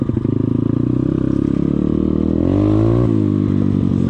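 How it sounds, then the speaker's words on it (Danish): A dirt bike engine roars close by, revving with a buzzy rattle before climbing in pitch as the bike speeds up, then dropping back. "Det er meget, meget fedt at køre her med crosser, end det er med knallert."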